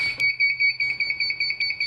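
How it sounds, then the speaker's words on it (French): An autoclave chirps steadily as it reaches its sterilizing temperature, a fast string of bright electronic beeps about every tenth of a second for nearly two seconds, close and fairly loud over a low hum. "Quand il atteint 128, il s'est mis à biper comme un con."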